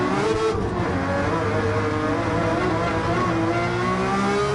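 Engine note of a race car in Gran Turismo 7 on PSVR 2, a loud sustained rev with rising and falling harmonic tones, steady and close with no talk over it.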